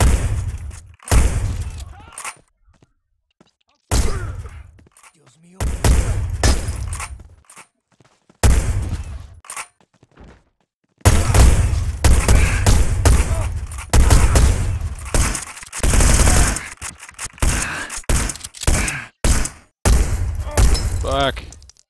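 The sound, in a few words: enemies shooting at player in Hitman Blood Money video game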